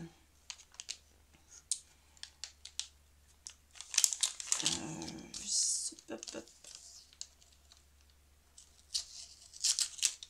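A paper envelope from a scrapbooking advent calendar is torn open close up, with crinkling, tearing and rustling paper in bursts, louder in the middle and again at the end, with some quiet talk.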